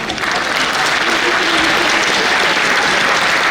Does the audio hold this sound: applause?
yes